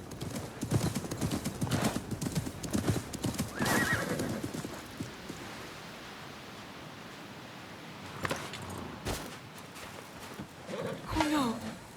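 Horse hooves clip-clopping and a loud whinny in the Assassin's Creed Mirage video game, with rapid hoofbeats in the first few seconds, then a neigh, quieter rustling and a later sharp call.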